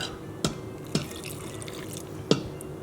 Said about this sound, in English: Now we're going to pour a little bit inside the pumpkin.